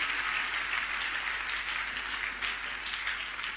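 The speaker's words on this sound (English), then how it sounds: "Is that how to clap? Can you do that better?" A church congregation claps together in a steady, dense burst of applause that holds at moderate level throughout.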